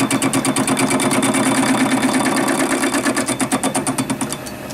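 A belt-driven Myford lathe turns a large-diameter workpiece at slowed speed, a loud steady mechanical drone with a regular pulsing beat, fading slightly at the end, with no talking.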